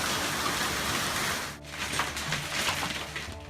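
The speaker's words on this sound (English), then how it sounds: "Take a look at this hailstorm taken at a West Side home." A hailstorm pelting a home on Tucson's West Side during the monsoon season, a dense hiss of stones striking surfaces with a brief dip midway before the clattering resumes, close and continuous.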